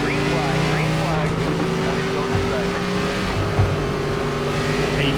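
Race car engines idling and cranking up in an iRacing ARCA game at Talladega, a steady loud layered motor drone that holds throughout with no break.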